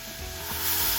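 Minced garlic sizzling in melted butter in a pan, a steady close hiss of frying with a faint stirring scrape, growing slightly louder toward the end.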